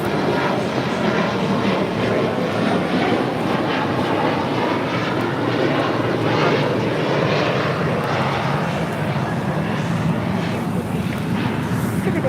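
JetBlue Airways airliner arriving at LAX from Boston: a steady, loud jet engine roar that continues unbroken, with no voices over it.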